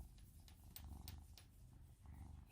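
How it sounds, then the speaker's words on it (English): Pet cat purring steadily while having its head scratched, a low continuous rumbling close by, fairly quiet with slight rhythmic swells. "Hear him purring?"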